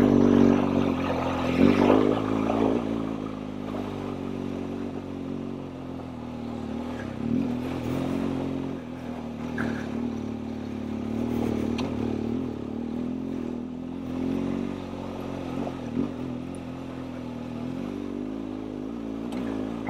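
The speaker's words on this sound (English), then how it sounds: "my rear wheel is just spinning" A vehicle engine revs steadily for about twenty seconds while its rear wheel spins in place on a rough road in the Colorado and Utah backcountry, the drone rising and falling with occasional clatter and scraping.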